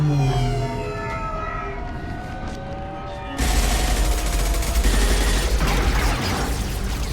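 Gunfire and explosions in the video game Mass Effect 2 break out abruptly after a tonal musical stretch, becoming a loud, dense barrage of shots and booms that continues to the end.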